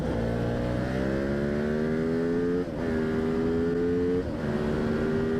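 An Aprilia SXV 550 supermoto motorcycle engine revs up hard in three rising pulls, each climbing in pitch before a brief gear-change dip, loud and close with no talking.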